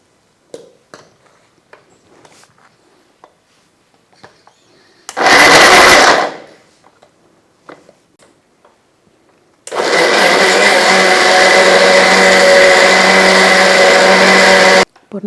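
An electric mixer grinder blends sautéed onion, tomato, ginger and garlic: a loud one-second burst, then after quiet handling clicks a long, steady, roaring whir of about five seconds that cuts off sharply.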